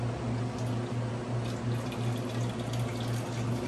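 Hot water draining from a BUNN commercial coffee pot, a steady rushing liquid flow with a low hum beneath it, continuous and close at moderate level.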